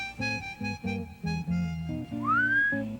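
A melodic whistle plays a short tune of clipped notes over a rhythmic backing, ending in a rising, sliding whistle.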